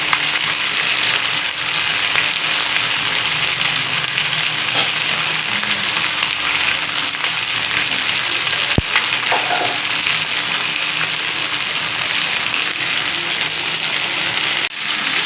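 Masala fish fries in a pan with a loud, continuous close sizzle that runs without a break. Occasional scrapes and clicks sound as the pieces are turned, and a sharp knock comes near the end.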